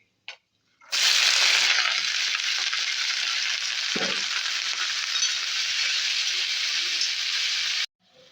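Nigella seeds and dried red chillies hit hot oil and fry with a loud, steady crackling sizzle that starts abruptly and runs evenly for about seven seconds before cutting off, with a brief faint voice near the middle.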